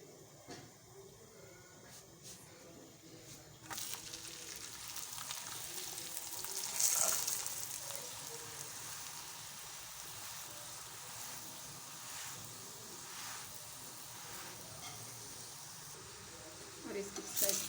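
Paratha frying in ghee in a hot pan, a steady close sizzle that swells louder and holds, with faint kitchen clatter and a brief scrape near the end.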